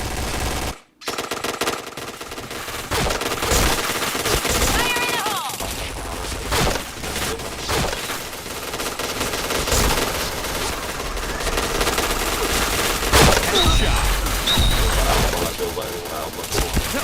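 Rapid automatic gunfire and bursts of shots fill a shooting video game match, loud and nearly continuous with brief gaps, while players talk over the action.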